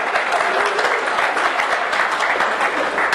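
A large audience at a software conference keynote breaks into sustained, dense applause, steady and loud throughout with no talking.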